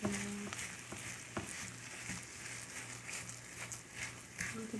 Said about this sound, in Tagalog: Halo ko na siya.